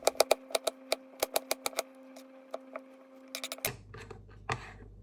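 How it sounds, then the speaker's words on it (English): A knife chops peeled ginger into tiny pieces on a board, giving crisp, close, rhythmic taps in quick clusters over a steady hum. The hum drops away near the end, where a few softer taps follow. "I like to cut them like very tiny pieces"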